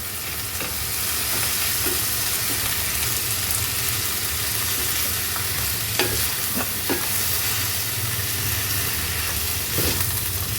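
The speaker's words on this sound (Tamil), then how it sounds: "போட்டு நல்லா கிளறி விட்டுருங்க" Tomato mint chutney frying in a pan as it is stirred, a loud continuous close sizzle and hiss with a few scattered scrapes of the spoon against the pan.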